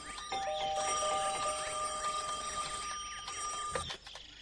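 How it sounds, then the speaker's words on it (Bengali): Cartoon doorbell and telephone ringing together, a bright, close electronic trill with repeated chiming tones lasting about four seconds before stopping. "বাচ্চু, দেখ তো দরজায় কে এলো, আমি ফোনটা রিসিভ করছি।"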